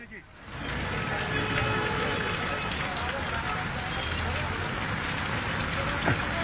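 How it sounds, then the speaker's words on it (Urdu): Heavy rain pours down in Bhopal during a Muharram mourning procession, a dense, steady hiss of drops striking surfaces that runs throughout, with a reporter talking over it. "بھوپال میں بارش جو ہے بہت تیز ہو رہی ہے"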